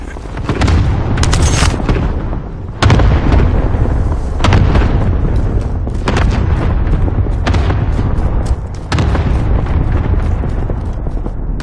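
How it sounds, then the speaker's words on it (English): Cluster strike explosions in a PS4 shooter: a string of heavy booms landing one after another, loud and close, each punching out of a rumbling bed of blast noise, with no talk. "Cluster strike away."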